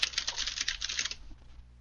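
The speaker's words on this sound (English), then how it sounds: "I'm going to be typing on my mechanical keyboard for a little bit." Rapid clacking of keys on a mechanical computer keyboard, a quick run of close, crisp strokes that thins out and fades toward the end, with no voices.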